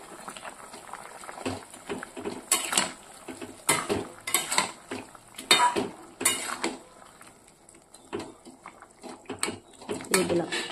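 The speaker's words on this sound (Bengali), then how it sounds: "এবার আমি ভেজে রাখা মাছগুলো দিয়ে দেবো।" Metal utensils clink and scrape against a pan as fried fish pieces go into a simmering vegetable curry, irregular close knocks and rattles over a low bubbling background.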